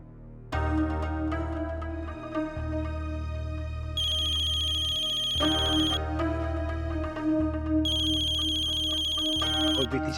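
Phone ringtone ringing in an Indian television drama scene: a loud, repeating electronic melody with bright tonal bursts, continuing for the full length with little else audible.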